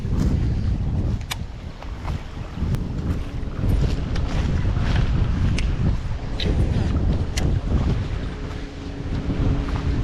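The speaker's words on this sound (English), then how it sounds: "Really windy here." Strong wind gusting across an open-water fishing spot, a loud, continuous roar and buffeting against the microphone with occasional faint clicks from fishing tackle.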